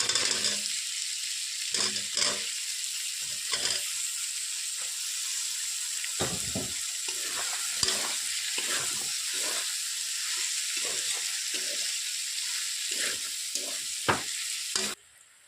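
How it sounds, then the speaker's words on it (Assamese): Ridge gourd and lentils sizzle steadily in a hot pan, a constant bright frying hiss broken by scraping stirs and clinks of a spoon. "কাটি লোৱা জিকা, এইখিনি অলপ সময় দালিৰ লগত ভাজি ল'ম।"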